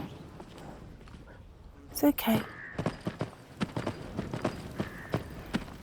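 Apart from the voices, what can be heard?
horse hooves in a video game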